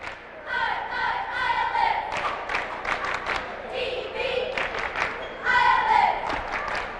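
Gate City cheerleaders cheer rhythmically on the court during a high school basketball game, their chanting voices rising in repeated bursts over a busy, echoing gym crowd with scattered thumps and claps.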